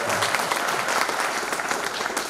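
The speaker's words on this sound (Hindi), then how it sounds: "जोरदार तालियां हो जाए" An audience claps loudly at a stage speech event, a dense burst of applause that carries on for a couple of seconds with no voices over it.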